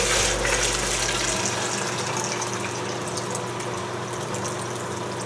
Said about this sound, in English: Now we're going to decant this into my graduated beaker here, and we'll see how much exactly we have.